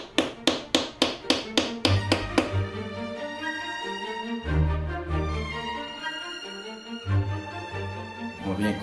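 Plaster mould shells are removed from a silicone mould at an art foundry: a rapid series of about ten sharp taps and knocks, then hollow thuds and scraping, close and fairly loud with no talking.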